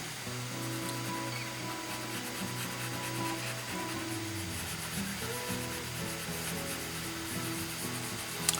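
Colored pencil rubbed steadily across paper to blend and burnish a pear drawing, a continuous soft scratchy rasp of close strokes with no talking.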